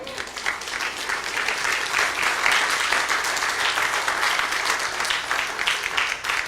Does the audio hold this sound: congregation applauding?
yes